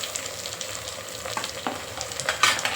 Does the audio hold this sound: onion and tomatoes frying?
yes